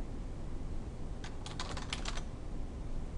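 Quick burst of keystrokes on a computer keyboard while entering labels into a spreadsheet, a rapid cluster of clicks lasting about a second over a steady room hiss, with no talking.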